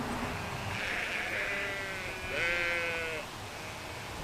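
Sheep bleat from a short distance outdoors in a cold countryside setting, two or three wavering calls overlapping against a steady wash of background noise.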